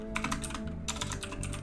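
Fast typing on a computer keyboard, a quick run of close, crisp keystrokes lasting under two seconds over a faint steady hum.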